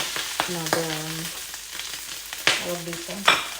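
Egg frying in a home kitchen pan gives a steady close sizzle, broken by a few short squealing tones and light clatter.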